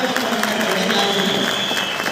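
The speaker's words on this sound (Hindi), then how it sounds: "यस, जोरदार तालियां, एक बार जोरदार तालियां।" Loud, dense audience applause at a live panel session fills the whole stretch, a steady wash of many hands clapping with crowd noise mixed in and a voice faintly underneath.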